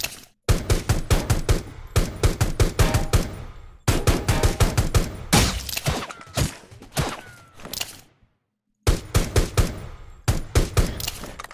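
Rapid automatic gunfire rattles loudly and close in the Rules of Survival video game, in long bursts of repeated shots broken by a short silence before another volley.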